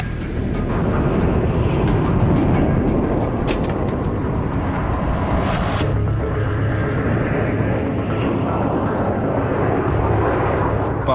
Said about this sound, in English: Withers starts refueling with the Victors.